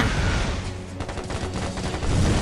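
Heavy gunfire barrage in the mobile shooter Super Slug, rapid rattling shots and booms packed tightly together, loud and close throughout.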